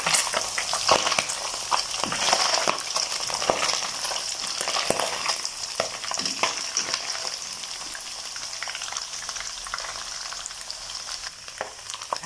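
Mekong giant catfish frying in hot oil, a continuous close crackling sizzle with bursts of popping, steady throughout.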